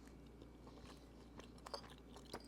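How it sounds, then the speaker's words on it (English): Close, quiet chewing of a vegan gluten-free berry crumble pie, with soft crunches and mouth clicks scattered unevenly over a low steady hum. "picking up all the sounds of the chewing and stuff"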